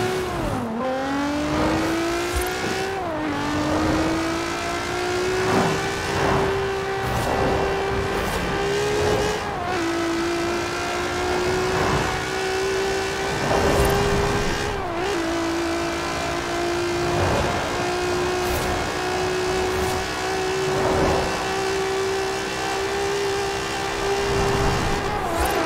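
A car engine in the video game Forza Horizon 4 revs and pulls hard through gear changes, its tone rising steadily, dipping at each shift and climbing again, loud and continuous throughout.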